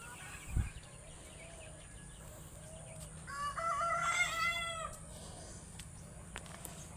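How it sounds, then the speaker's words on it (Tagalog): A rooster crows once in the middle distance amid faint chicken clucks and a quiet outdoor background hum. "Yan din ang mga alaga naming mga manok."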